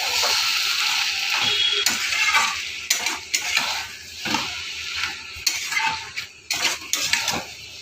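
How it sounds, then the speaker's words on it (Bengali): A pot of fish-head and Malabar spinach curry is stirred with a utensil, giving close, irregular scraping and clattering strokes that come in bursts with brief pauses between them. "নামানোর আগে একটু মিষ্টি দিয়ে নেড়ে ছেড়ে"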